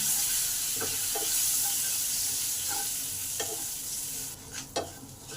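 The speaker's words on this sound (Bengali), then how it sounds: "একটু কারি পাতা দিলাম, একটু সাদা তেল দিলাম। এগুলোকে ভালো করে ভেজে নেব।" Curry leaves fry in white oil in a pan, a steady close sizzle with a few stirring clicks and scrapes near the end, no voices.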